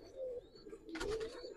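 Pigeons at a Giribaz and coloring pigeon farm in Old Dhaka give soft, close, low cooing, a couple of rolling coos over a quiet background.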